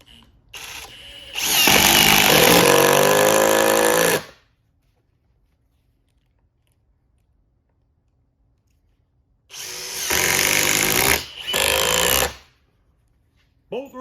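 Two cordless impact drivers, a Milwaukee and a Ridgid, run at speed 3 driving 3-inch screws in a pair of loud buzzing bursts separated by silence, with brief sounds at the start and between them.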